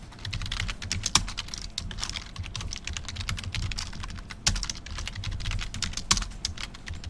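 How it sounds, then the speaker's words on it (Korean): Fast, irregular clicking of a computer keyboard while Java code is typed, close and fairly quiet, with a few heavier keystrokes standing out from the steady patter. "얘는 컨트롤 스페이스바 눌러서 임포트 추가하고"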